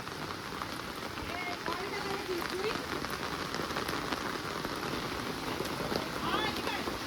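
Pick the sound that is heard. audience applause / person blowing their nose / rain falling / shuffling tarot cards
rain falling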